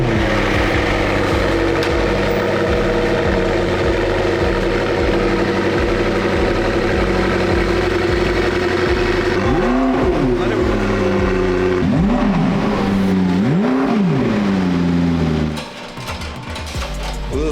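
A loud, raw McLaren sports car engine with no muffler idles with a deep, choppy rumble, then revs sharply several times in quick bursts before dropping back near the end.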